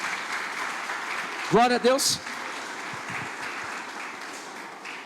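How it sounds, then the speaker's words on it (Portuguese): A church congregation at a Sunday celebration service applauds in a steady wash of clapping that runs beneath a voice speaking over it. "Você pode aplaudir ao Senhor por isso em nome de Jesus?"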